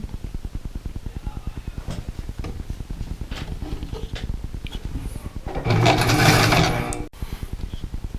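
A sewing machine runs a zigzag stitch in a continuous, fast rhythmic chatter close to the microphone, with a brief louder swell of mechanical noise near the end.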